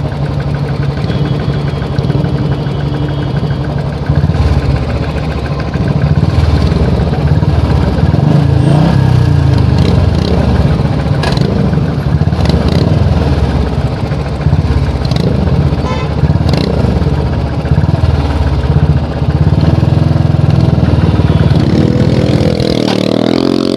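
A motorcycle engine idles steadily close by with a low, uneven rumble, broken by occasional light blips and clicks and a short rise near the end, with no talking.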